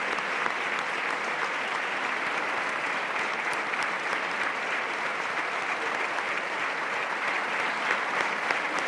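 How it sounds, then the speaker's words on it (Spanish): Studio audience applause during a political comedy parody sketch, a loud, dense, unbroken wash of clapping that stays even for the full stretch with no talking over it. "¿De qué me aplauden estos humanos?"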